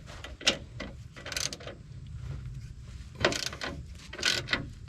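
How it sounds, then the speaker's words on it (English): A wrench works a nut on a Bilstein 5100 series steering stabilizer of a 2001-2010 LBZ Duramax truck, giving faint, irregular metallic clicks and scraping in bursts, close by. "Now there's a nut back here you're gonna want to get a wrench on."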